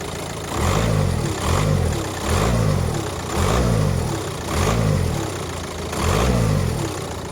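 A VW Caddy 1.9 TDI diesel engine, just fitted with a new right engine mount, is revved repeatedly in short, even bursts, six rises and falls in steady rhythm, heard up close with no voices.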